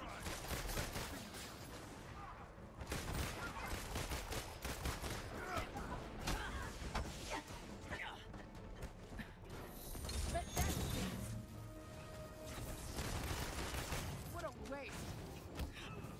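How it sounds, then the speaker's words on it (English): Bursts of rapid gunfire in the Marvel's Avengers video game, layered with mechanical clanks and creaks in a busy, loud mix, with characters talking throughout. "Shooting this person."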